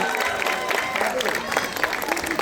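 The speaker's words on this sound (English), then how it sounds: "Can we get another round of applause for our youth dance team?" Crowd applause at an outdoor chariot festival for a youth dance team, a dense wash of clapping running under a voice speaking over it.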